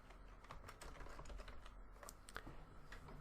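Quiet, quick clicking of keys on a computer keyboard, an irregular run of taps with no voices.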